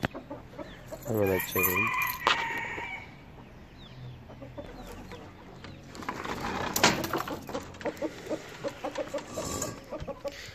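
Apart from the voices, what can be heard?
chickens clucking in coop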